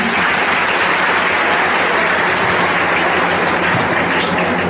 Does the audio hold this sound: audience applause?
yes